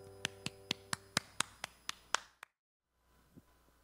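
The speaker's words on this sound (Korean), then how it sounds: "박수 올려드리겠습니다." Steady, evenly spaced hand clapping at a children's worship service, about ten crisp claps in quick rhythm that stop abruptly, followed by near silence.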